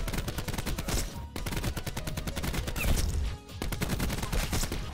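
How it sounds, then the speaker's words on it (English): Rapid bursts of gunfire in Black Ops 4, automatic fire in quick successive strings with short pauses between bursts, loud and close with no voices. "I'm going crazy with these headshots though."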